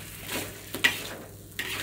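Vegetables for sayur asam sizzle briefly in a pan, a soft steady frying hiss broken by a few stirring scrapes and clinks.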